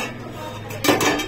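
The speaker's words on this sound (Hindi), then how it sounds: "मैंने इधर बर्तन साफ करके लगा दिया यहाँ पर" Freshly washed dishes and utensils handled in a village home kitchen: a quiet, low hum gives way to one brief, bright metallic clatter near the end.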